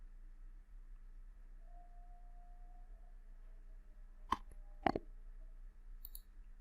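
Two sharp mouse clicks, close and crisp, a short pause apart, while working in the Shopify theme editor; a steady low hum runs underneath and otherwise all is quiet.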